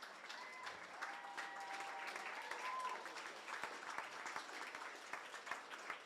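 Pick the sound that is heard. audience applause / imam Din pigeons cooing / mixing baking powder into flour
audience applause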